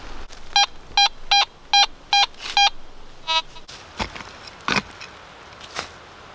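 Metal detector searching a cabin site gives six evenly spaced, loud electronic tones over a buried preserve jar lid, then a shorter tone and a few fainter scattered clicks and rustles.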